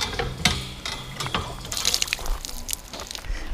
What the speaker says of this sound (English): So I have refilled my water storage